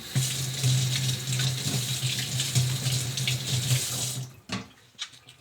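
Water from a tap runs steadily into a sink to wet sandpaper for wet sanding a table, a close, continuous splashing flow that cuts off near the end, followed by a couple of light knocks.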